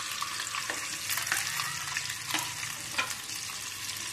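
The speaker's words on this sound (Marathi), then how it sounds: "इथं आपण या पॅन मध्ये आता अंडे सोडून घेणार आहोत" Eggs dropped into hot oil in a pan give a dense, continuous sizzle with bursts of spitting crackle, close and fairly loud throughout.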